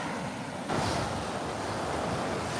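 Ocean waves wash onto a beach in a steady broadband roar that swells louder after the first moment, with wind buffeting the microphone and no voices.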